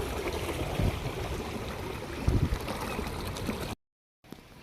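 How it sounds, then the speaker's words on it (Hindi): Steady rain pours down over farm fields in a continuous, dense hiss with a few louder patters. The sound cuts to silence near the end and then returns faintly. "और उतने में लग गई बारिश"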